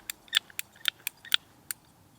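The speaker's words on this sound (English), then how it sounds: "Just do like that, and then you cut your pipe with it" A ratcheting pipe cutter bites through plastic sprinkler pipe in a series of about seven sharp, close clicks and snaps spaced irregularly, with quiet between them and no talking.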